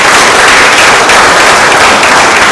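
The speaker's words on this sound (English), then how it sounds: "So a big round of applause for Queenie." A charity event crowd breaks into loud, dense applause for Queenie, heavy clapping close by and sustained without pause for the whole brief stretch.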